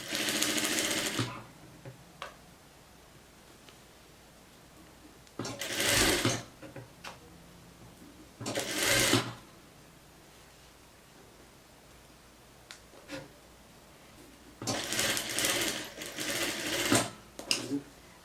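A sewing machine stitches trousers in short separate runs, each a few seconds long with quiet pauses between, close by and fairly soft.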